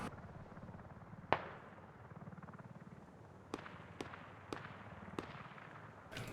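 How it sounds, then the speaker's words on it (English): Airstrike explosions land in a Squad match, a series of sharp, distant blasts spaced irregularly over a steady low rumble of gameplay noise, faint overall with no talk. "So LLAMAKRIEG now calling in the airstrike on Blue Army's fob."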